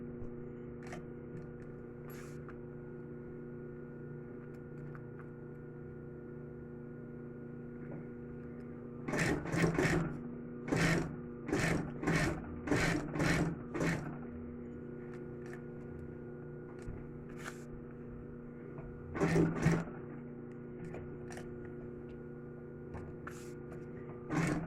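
A sewing machine stitches along the fabric edge of a bag pocket over a steady electrical hum, with short bursts of fast mechanical rattling in clusters, then pauses and a few isolated clicks.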